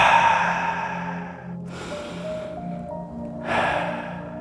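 Slow breaths drawn in and let out during a yoga session, close and soft, with a gentle gasp-like inhale and sighing exhale separated by a quiet pause.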